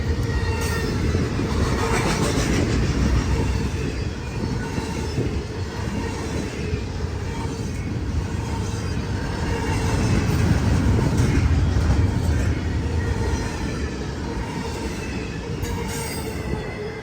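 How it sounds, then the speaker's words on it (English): An eastbound freight train of ethanol cars, led by a Union Pacific EMD locomotive, rumbles steadily past at close range, with wheels squealing and a continuous heavy roar of rolling cars throughout. "I caught this eastbound ethanol train with a UP EMD leader and a UPGE as a rear DPU"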